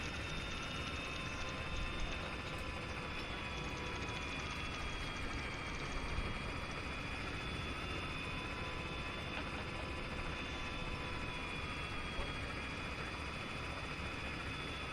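Helicopter rotor in the video game Arma 3, flying near a ship's tower and deck: a loud, continuous thrumming drone with a mechanical whine that holds steady throughout.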